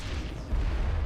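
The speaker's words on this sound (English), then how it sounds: "Oh no. Grenade." A grenade explodes in a first-person shooter video game, a short, loud, deep boom with a heavy low-end rumble that swells about halfway through the burst.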